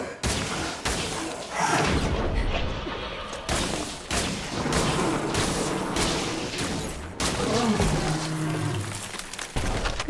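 Gunfire from a gun in the sci-fi shooter Scars Above, with repeated sharp shots spaced across the clip over loud, rumbling creature and combat noise, and no talking.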